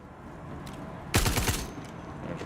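Star Citizen game gunfire erupts in a short, fairly close burst of rapid shots lasting about half a second, set against a quiet background hiss.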